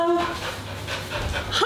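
A dog pants steadily after a walk, close by, its quick breaths repeating in a rhythm under faint background noise with a brief whine at the start.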